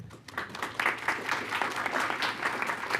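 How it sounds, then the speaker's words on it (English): An audience at a school board meeting applauds students, a steady burst of clapping from a mid-sized crowd in a hall, with no talk over it. "we encourage clapping because we want students to be part of the process"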